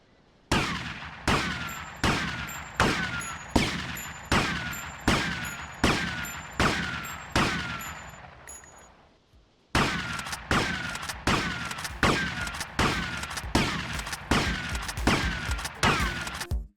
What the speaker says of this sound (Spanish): La otra es la escopeta, aunque en esta se nota más que nada en el efecto de sonido de recarga, que estaba ausente